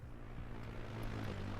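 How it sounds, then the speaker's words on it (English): A drone hums overhead in the military game Arma 3, a steady low engine drone with a buzzing tone, continuous and fairly loud with no speech. "there's our drone"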